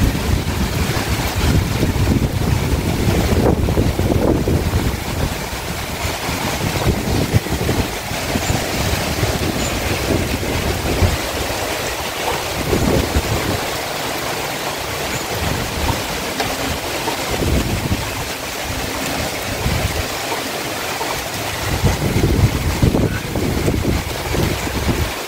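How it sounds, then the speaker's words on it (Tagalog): Strong typhoon gusts roar and buffet the microphone for a long stretch, with waves or water churning underneath. "Dito po banda ang hangin."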